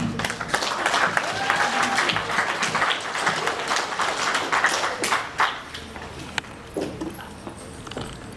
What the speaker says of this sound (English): I'll get a warm round of applause for his friend Sam.